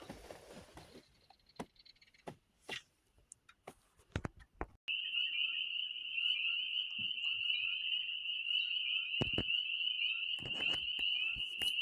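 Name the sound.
frogs calling near a beaver canal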